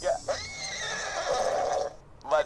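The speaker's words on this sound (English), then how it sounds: "Mud stallion says hello." A horse in the video game Borderlands 2 gives a loud, close neigh and whinny lasting about two seconds, with a short vocal snort at the start and end.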